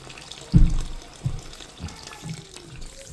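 Water sputters and runs out of a purge valve on a Viessmann high-efficiency combi gas boiler, a heavy splash at first followed by softer intermittent gushes, close by with no talking.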